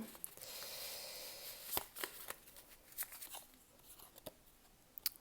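Animal oracle cards are shuffled by hand, giving soft riffling and flicking clicks in short bursts with quiet rustling between, faint and close.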